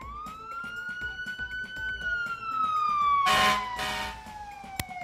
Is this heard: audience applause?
no